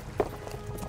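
A horse gallops in the Kingdom Come: Deliverance video game, with quick muffled hoofbeats thudding in a short rhythmic burst.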